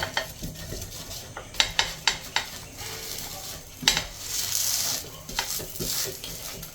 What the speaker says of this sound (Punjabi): ਜਦੋਂ ਥੋੜਾ ਬ੍ਰਾਊਨ ਦਿਖਣ ਲੱਗ ਗਿਆ ਤੇ ਥੋੜਾ ਬਟਰ ਲਗਾਵਾਂਗੇ